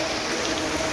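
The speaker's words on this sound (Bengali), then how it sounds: "দেখেন কত স্পিডে বৃষ্টি পড়ছে" Heavy rain pours down in a steady, dense hiss that stays even and unbroken throughout, with no voices over it.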